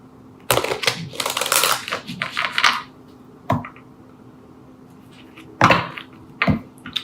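Cards from a Shamanic Healing Oracle deck rustle and slap in a quick burst of shuffling, then a few separate flicks and taps as a card is drawn, close and fairly quiet, with no voice.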